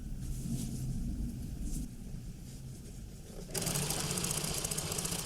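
Sewing machine running steadily, topstitching the side seams of a Brooklyn waistcoat, with a close mechanical whir that speeds up and grows brighter toward the end, no speech.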